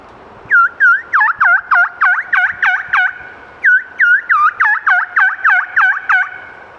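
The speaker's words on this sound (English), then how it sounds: "Okay, gobbler yelping." Two runs of steady, rhythmic wild turkey gobbler yelps, each a string of about ten coarse notes separated by a short pause, loud and near.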